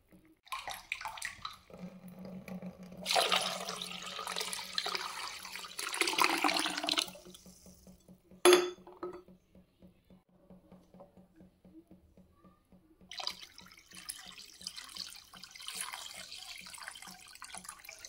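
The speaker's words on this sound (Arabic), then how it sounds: "ونغطيو عليهم بالماء ونخليهم يطيبوا تقريبا" Water is poured from a tap into a pot of chickpeas in a home kitchen, a gushing, splashing stream in several bursts separated by quiet pauses, with a sharp clink partway through.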